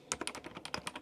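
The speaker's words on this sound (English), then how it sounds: "So here I'm just going to type" Quick, light keystrokes on a computer keyboard, about eight close taps in an uneven rhythm, soft and near.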